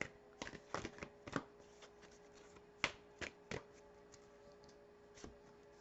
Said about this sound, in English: So let's pull a card here from the Moonology deck, just as a closing thought.